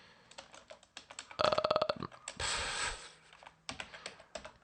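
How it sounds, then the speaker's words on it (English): Quick clusters of keystrokes on a computer keyboard while entering a MAC changer command, close and fairly quiet, broken by a short louder burst of clatter and a brief rushing noise midway, with no speech. "So let's type in MAC"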